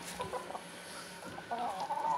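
Laying hens kept as breeding stock cluck repeatedly at close range, with short, uneven calls that grow busier toward the end and no talking over them.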